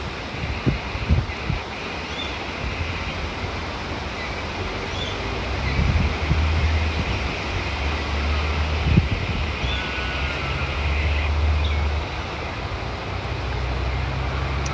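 Low, rumbling wind buffets the microphone in uneven gusts at Fremantle Cemetery, with a rustling hiss behind it and a few knocks early on.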